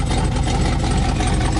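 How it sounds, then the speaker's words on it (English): An RV engine idles with an exhaust leak, giving a steady, loud, rough rumble with a rapid pulsing chug throughout, heard close up with no voices. "I knew it had an exhaust leak. And to me, it kind of sounds like it's on the passenger side."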